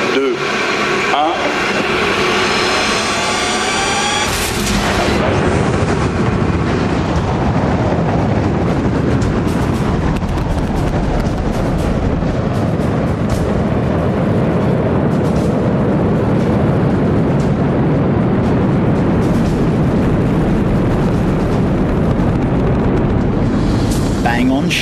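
A space rocket lifts off with 1,340 tons of thrust, a loud, continuous broadband roar that surges in and holds steady for over twenty seconds, drowning out the faint countdown voices at the start.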